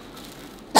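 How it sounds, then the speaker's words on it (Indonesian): A single short cough bursts out near the end after a stretch of quiet room noise. "Kamu batukin ya kak, batukin kak"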